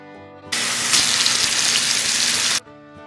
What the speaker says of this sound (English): Pour your ghee in a hot pan and then stick the steaks on.